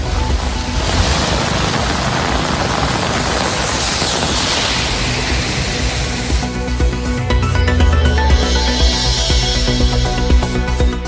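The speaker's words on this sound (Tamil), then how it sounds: "கடலூரில் 1 மணி நேரம் கொட்டி தீர்த்த கனமழை." Heavy rain pours steadily over Cuddalore, a dense, continuous roar of broadband noise lasting throughout with no voices.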